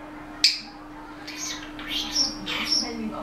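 A pet Alexandrine parakeet gives several sharp, loud squawking calls indoors, one abrupt cry followed by a run of shrill, rasping notes close by.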